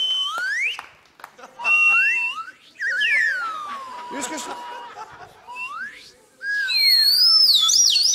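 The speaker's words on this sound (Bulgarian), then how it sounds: "Искаш ли да си говорим с свирките?" A toy bird whistle blown in a TV studio show, rising and falling warbling pitches in several bursts, loud and close, with someone speaking briefly and chuckles in between.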